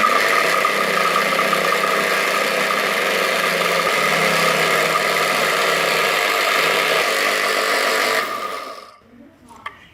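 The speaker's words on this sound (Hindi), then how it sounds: "तो सबसे पहले हम इसे ग्राइंड कर लेते हैं।" Electric grinder running steadily as almonds are ground, a continuous loud motor whir for about eight seconds before it cuts off and winds down.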